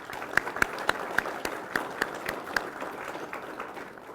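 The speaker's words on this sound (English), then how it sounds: "please give them a round of applause" About ten sparse, separate claps sound faint and somewhat distant at a law enforcement academy graduation ceremony, spaced unevenly before fading into quiet room tone.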